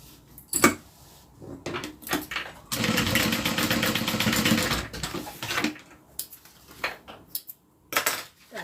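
A sewing machine stitches down the folded top of a leather wallet strap, a dense steady mechanical whir running about two seconds mid-clip, with short clicks and handling knocks before and after.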